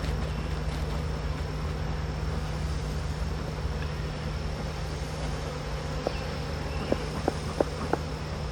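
Honey bees hum steadily around an open beehive during a swarm-control hive inspection, a dense, continuous buzz with a few faint knocks near the end.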